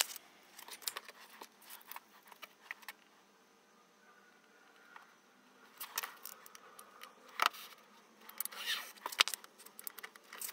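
Bookbinding cloth being cut to size, quiet intermittent snips and soft rustles of fabric and handling in a calm room, with brief sharp clicks scattered throughout.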